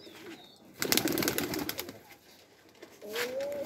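Pigeons by a cage coo, with a burst of wing flapping and short calls in the middle and a low coo near the end, close by and moderately loud.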